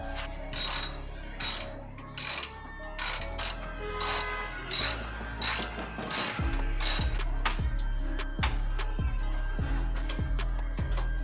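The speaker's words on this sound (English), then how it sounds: "For these you're going to need a 12mm socket to undo these two bolts right here." A 12mm socket ratchet undoing radiator clamp bolts on a Subaru, rapid clicking ratchet strokes in repeated bursts, close and crisp, then a steadier run of rhythmic clicks with heavier thumps; no talk.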